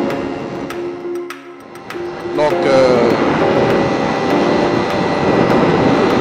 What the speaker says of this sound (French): là, le bruit du moteur